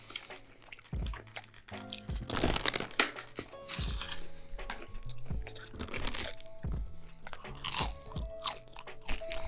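Crunchy bites into a crispy fried Jollibee peach mango pie, a string of loud close crackling chews and crushes over about ten seconds with no talking.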